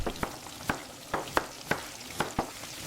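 Food sizzling and frying in a pan in an AI-generated cooking scene, a steady hiss punctuated by regular sharp crackles and pops, close and alone with no voices.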